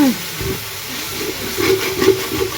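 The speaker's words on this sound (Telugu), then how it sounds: "చూడండి, టమాటాస్ ఇలా ఆయిల్లోనే ఫ్రై అవ్వాలి" Tomatoes frying in oil for a biryani, a steady close hiss and sizzle with occasional soft bubbling pops, moderately loud and continuous.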